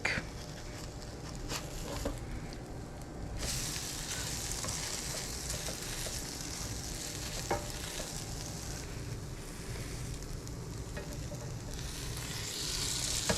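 A salmon cake made with almond flour fries in a non-stick pan, giving a steady, moderate sizzle and crackle that runs throughout with a few small clicks of utensils and no talking.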